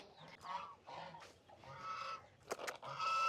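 Hens feeding on sprouted grain feed, giving repeated clucks and honking calls in a steady stream, close and fairly loud, with a couple of sharp knocks and no talk.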